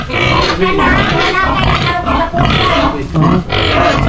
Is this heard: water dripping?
no